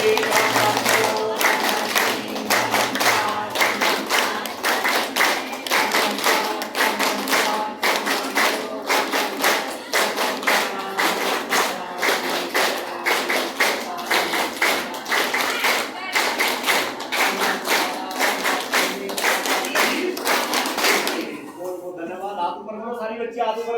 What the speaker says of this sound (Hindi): सबकी ताली एक साथ बजेगी, सबकी ताली एक साथ बजेगी